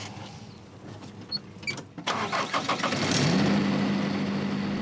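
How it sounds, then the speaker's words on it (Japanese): A car engine cranks with a rapid stuttering whir, catches, and settles into a steady idle hum, heard from inside the vehicle. "エンジンをかけた"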